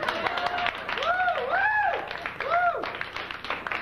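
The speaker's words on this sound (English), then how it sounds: "You can give me some more applause on that one, Nick." At a stand-up comedy show in New York, the crowd claps after a joke, with a few rising whistles and whoops standing out over moderate, fairly close applause.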